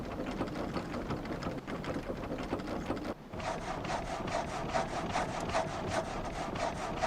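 A sawmill blade cuts through a log with a steady rasping, rhythmic drone that pauses briefly and resumes with a slightly sharper tone, loud and continuous with no voices.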